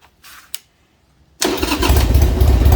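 A Harley-Davidson motorcycle with its choke pushed in, running with a slight misfire, starts after a couple of faint clicks. The engine catches abruptly into a loud, close, rumbling roar that stays strong to the end.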